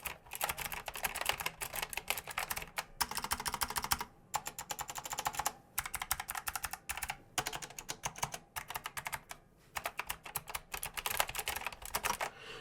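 Fast typing on an Azio Retro Classic BT keyboard gives a close, steady stream of clacky keystrokes broken by brief pauses.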